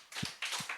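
Three claps from a church congregation, quick and fairly faint, evenly spaced across under a second.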